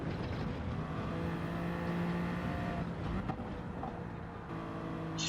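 A race car engine drones and shifts pitch as the car brakes and accelerates on the Nürburgring Nordschleife in a racing video game, a loud continuous motor note with no talk.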